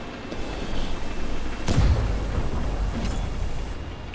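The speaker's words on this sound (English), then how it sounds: "the artillery manages to pick up that kill for me" In a tank video game, an artillery shell strikes with a deep, booming thud, followed by a fainter second impact over a steady rumble of battlefield noise.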